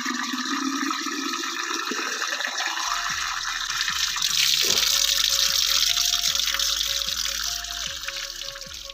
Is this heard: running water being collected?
yes